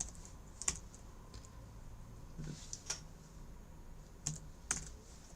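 Typing on a new computer keyboard with a changed key layout, heard as sparse, separate clicks and short bursts of keystrokes. The keys sound fairly close but quiet, with no one talking.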